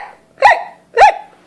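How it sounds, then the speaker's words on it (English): Hiccups from a young cartoon character: two short, loud, voiced hics about half a second apart, clear and close, with quiet between them. "you have the hiccups"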